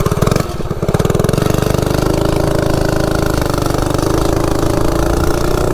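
Baja Warrior mini bike engine running steadily while riding, set up for speed without a straight chain or torque converter; a loud, continuous buzzing drone close by with a brief dip at the start, no talking.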